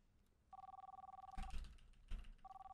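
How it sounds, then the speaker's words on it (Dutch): A telephone rings in the kebab restaurant cooking game Kebab Chefs Restaurant Simulator, with rapid electronic trills in repeated bursts and a couple of dull knocks between them, fairly quiet overall. "ik hoor de hele telefoon. Echt irritant."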